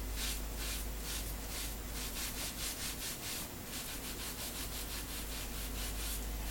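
Close, continuous rhythmic rubbing over a shellac resist on pottery, a soft repeated scrubbing of even strokes that keeps going for several seconds without talk.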